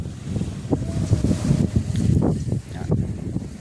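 Strong wind buffets the microphone at a seashore, a loud, continuous roaring rush with gusts rising and falling and no speech.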